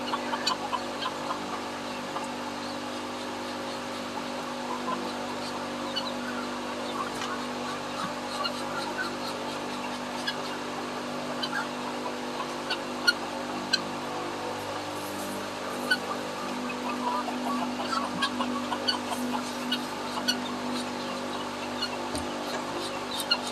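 Chickens in mobile chicken tractors on a farm make steady, faint clucking with occasional sharper calls, spread across a constant outdoor background hum.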